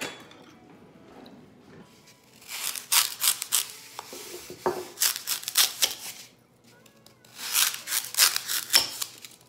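Artificial ivy is snipped and trimmed to size, with several bursts of crisp cutting and rustling plastic leaves close by in a quiet room.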